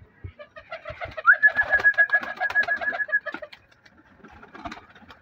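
Several domestic pigeons coo and call close by while being fed grain and roti in a rooftop loft, with a long steady whistling tone in the middle and scattered soft bird calls and movement noises around it.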